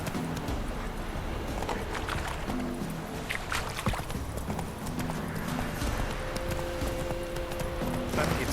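Roach the horse galloping in the game Witcher 3, a fast, steady clip-clop of hooves running continuously under ambient game sound, close and even.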